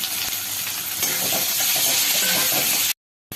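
Tomatoes, green chillies and ginger sizzle in a hot wok, a loud, steady hiss of frying that runs unbroken for about three seconds before cutting off.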